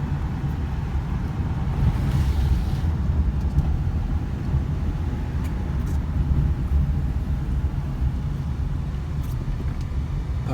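A 2005 Ford Explorer Sport Trac truck driving along, a steady, loud low rumble of engine and road noise from inside the cab, unbroken for the whole stretch with no talk.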